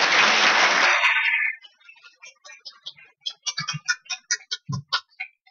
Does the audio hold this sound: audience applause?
yes